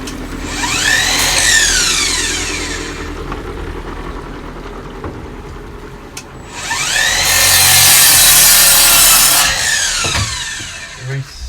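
Two long bursts of a hand saw cutting through wood aboard a narrowboat conversion, rasping back and forth in steady strokes, separated by a short pause.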